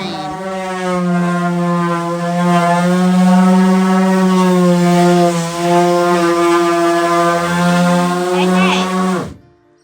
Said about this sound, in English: My sander's so dusty, it's jamming